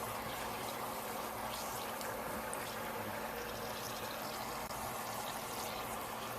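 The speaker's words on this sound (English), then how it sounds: "Nice bubbly hot dogs." Steady bubbling and hissing of hot dogs boiling in water, a continuous dense fizz with no voices.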